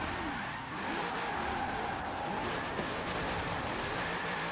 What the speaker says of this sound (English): Obviously, in the early gears, it's just wheel spin central